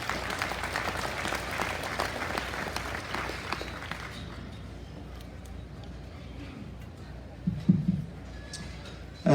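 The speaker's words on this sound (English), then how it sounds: "Let's give our supporters a round of applause also." Audience applause at a horse show's championship grand drive, dense clapping for about four seconds that fades into quieter room noise with a few faint sounds.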